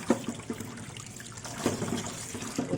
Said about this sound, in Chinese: 鸡蛋要好好的洗一洗。 这个都是新鲜的鸡蛋。